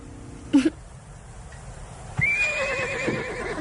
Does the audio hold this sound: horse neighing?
yes